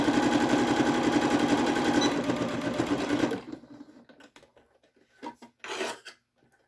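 A sewing machine runs a continuous, loud, close burst of stitching along a fabric pocket mask, then stops, leaving a few soft handling rustles and brief fabric noises.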